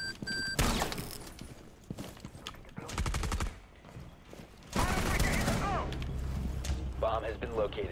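Gunfire in the tactical shooter Rainbow Six Siege: bursts of rapid shots and single cracks in irregular clusters, loud and close, mixed with game effects and a player talking over parts of it.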